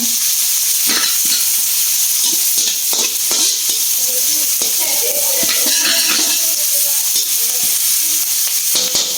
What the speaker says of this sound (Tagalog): Lutuin natin sa malaking kawali para magandang ihalo.